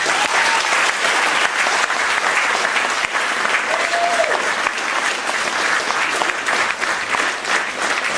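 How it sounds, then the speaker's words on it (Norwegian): A party crowd at a Lardal revue gives the organizing committee a big round of applause, loud sustained clapping from many people filling the room, with a few faint voices mixed in. "så jeg synes vi skal gi dem en stor applaus"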